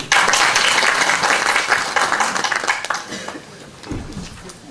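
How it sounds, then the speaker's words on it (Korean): Many hands clap loudly to welcome a sports council official stepping up to speak at a ceremony. The dense applause is strongest at first, then thins and tapers off toward the end. "여러분 큰 박수로 환영해 주십시오."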